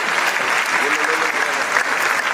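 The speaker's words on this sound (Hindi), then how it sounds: "हाथ उठा करके तालियों से अभिवादित करते हुए महामहिम गवर्नर" A large audience at a formal ceremony in a hall applauds the state governor with continuous, dense clapping that holds steady throughout.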